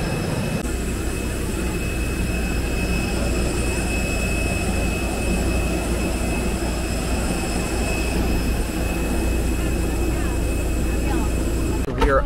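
A steady, loud drone of an airplane jet engine is heard from inside the cabin, continuous and unchanging with a faint high whine, until a brief disturbance at the very end.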